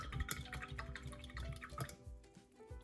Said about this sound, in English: Take my paintbrush and I'm gonna wash it off